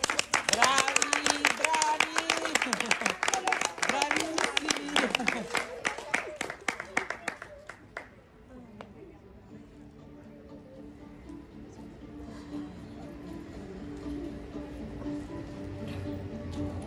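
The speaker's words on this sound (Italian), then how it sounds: "Un applauso di incoraggiamento." At an end-of-year school recital, the audience bursts into dense, encouraging applause while voices cheer over it. The clapping gradually thins and stops about halfway through, leaving a quiet room with a soft tonal murmur.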